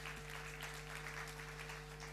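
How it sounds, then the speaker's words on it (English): Faint, distant audience applause for a panelist walking up at a celebration event, an even, continuous patter of many hands with no clear peaks, set over a steady electrical hum. "A hearty round of applause for her as she makes her way up."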